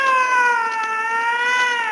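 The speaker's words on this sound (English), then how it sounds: "There's a cat up a tree." A cat meows in a TV recruitment advert, a single drawn-out, tonal, slightly wavering cry, loud and close, heard alone.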